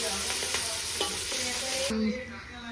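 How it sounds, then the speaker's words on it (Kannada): Onions fry in a hot pan with a steady, loud sizzle while a utensil stirs and scrapes at intervals. The sizzle drops abruptly near the end, leaving softer crackling and hum. "ಆನಿಯನ್ ಫ್ರೈ ಮಾಡ್ಕೊಬೇಕು, ಬ್ರೌನಿಶ್ ಕಲರ್ ಬರಬೇಕು."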